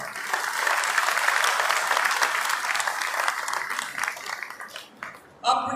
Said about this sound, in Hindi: मैं ये चाहता हूं कि एक बार अपने लिए जोर से ताली लगाए।